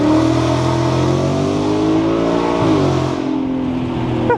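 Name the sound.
Ford S650 Mustang GT revving with MBRP race exhaust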